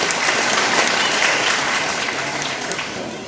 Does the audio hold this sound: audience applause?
yes